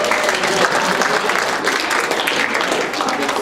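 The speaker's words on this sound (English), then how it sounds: "give yourselves a round of applause" Audience at a comedy show in a synagogue applauding, a dense, steady burst of clapping from a crowd that holds at full volume throughout, with no talking over it.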